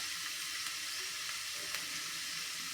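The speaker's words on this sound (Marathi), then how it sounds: "भाज्या छान मऊ होईपर्यंत ना या मसाल्यासोबत आपण छान शिजवून घेऊयात" Chopped vegetables cooking in a pan with chilli powder and pav bhaji masala, giving a steady close sizzle throughout with a few faint stirring touches and no talking.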